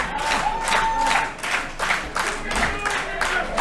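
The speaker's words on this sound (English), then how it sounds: "The Without a Cause faithful rallying behind Nick." A wrestling crowd at a Without a Cause independent show claps in a steady rhythmic beat, fairly loud and dense, with scattered cheers and a commentator's voice faintly underneath.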